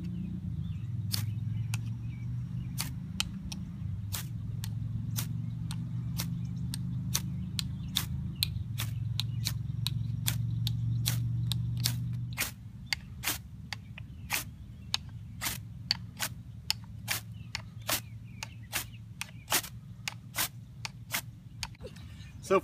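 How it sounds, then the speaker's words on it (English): A ferro rod scraped along the spine of a new Mora Bushcraft knife, many sharp rasping strikes repeated at an irregular pace, close and crisp over a low background hum. "We'll use the ferro rod that it came with to test it"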